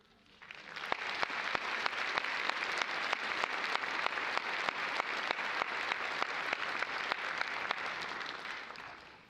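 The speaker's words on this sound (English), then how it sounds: "Would you guys join me in giving him one more round of applause?" An audience at a university commencement ceremony applauds the speaker with sustained, dense clapping that swells in, holds steady for several seconds with a few sharp individual claps standing out, then tapers.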